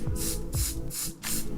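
A Sephora Perfection Mist airbrush foundation aerosol can gives four short, close hissing sprays in a steady rhythm, each burst lasting a fraction of a second with brief gaps between them.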